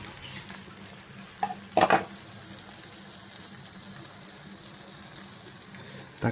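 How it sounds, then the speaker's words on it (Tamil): Vanjaram dried fish frying on a low flame, giving a soft continuous sizzle with a brief louder burst of spatter near the start, close by and fairly quiet. "நல்லா ஃப்ரை ஆகட்டும். லோ ஃப்ளேமில் வச்சு தான் இதை பண்ண முடியும்."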